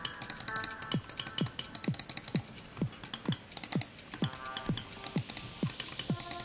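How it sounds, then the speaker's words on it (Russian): Sharp, crisp switch clicks from an ASUS ROG Gladius III gaming mouse, about a dozen distinct clicks in an uneven rhythm, close and clear against a quiet background. "У них более четкий и легкий ход и отчетливый клик"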